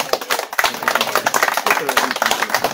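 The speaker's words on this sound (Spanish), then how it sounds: "quien lo recibimos con un fuerte y caluroso aplauso" A ceremony crowd at a groundbreaking for an electrical network expansion claps in a brisk, uneven burst of applause with some voices mixed in.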